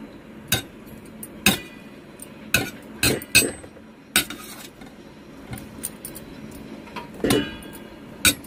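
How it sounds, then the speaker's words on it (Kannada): Boiled potatoes being mashed in a pan make sharp, irregular knocks and clinks of a utensil against metal, with quiet pauses between the hits. "ಅದನ್ನೆಲ್ಲ ತೆಕ್ಕೊಂಡು ಮ್ಯಾಶ್ ಮಾಡ್ಕೋಬೇಕು"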